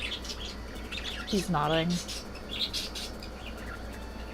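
A pet bird squawks indoors in a short loud burst of harsh, rising calls, with faint chirps around it and a person speaking quietly nearby.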